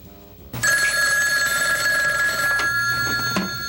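A telephone bell rings loudly after a brief quiet opening, a sustained bright metallic trill in a 1983 children's television show, close and continuous until it cuts off near the end.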